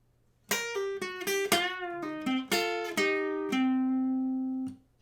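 A quick run of plucked electric guitar notes, about a dozen in rapid succession, ending on one long ringing note that fades out, played alone.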